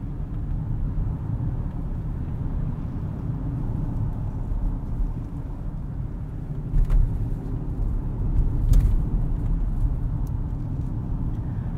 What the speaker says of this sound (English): There are a few more harsh impacts from these Continental Sport tires.